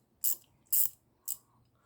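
Three crisp, separate metallic clicks from a ratchet wrench, close and fairly quiet against near silence.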